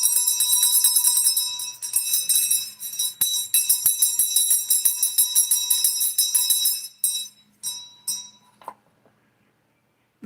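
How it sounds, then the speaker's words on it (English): A bell is rung during a live holistic healing session, a bright metallic tone with repeated strikes that ring and decay, loud and sustained, then fading out near the end with no talk over it. "Let's ring the bell, actually."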